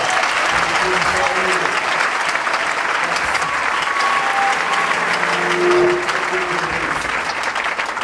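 A church congregation at a temple dedication service applauds loudly and cheers steadily for several seconds, dense continuous clapping with voices mixed in.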